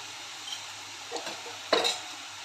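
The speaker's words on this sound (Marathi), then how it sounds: "मिक्स करून घेते हे सर्व" A pan of pigeon pea dal and cluster bean vegetable is stirred over a soft sizzle, with a few quiet scrapes and one sharper clink of the spoon against the pan near the end.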